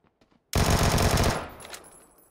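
A loud, close burst of automatic gunshots in PUBG starts abruptly after near silence, lasts under a second and then trails off into echoing decay.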